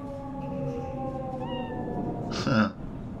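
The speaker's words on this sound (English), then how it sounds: "cat." A cat meows in Cyberpunk 2077, a single short meow rising over a steady low game ambience, with a fainter earlier mew in the middle of the clip.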